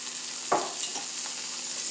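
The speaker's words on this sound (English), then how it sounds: "I'm going to take some fresh garlic. Just get a little spoonful. And throw it in." Spoonful of fresh garlic sizzling in about half a cup of hot butter in a pan, a steady close crackle that starts with a short hiss as it lands and then keeps frying evenly.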